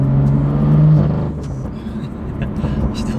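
A BMW M2's N55 engine runs with its exhaust valves open, a steady rumbling drone that swells briefly then settles, close and fairly loud on a rainy day.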